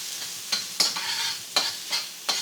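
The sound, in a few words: food sizzling while stir-frying in wok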